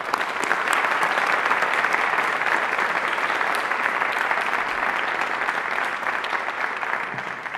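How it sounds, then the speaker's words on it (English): Steady, dense audience applause at a school band concert, loud and continuous throughout with no break. "let's give them a great big round of applause."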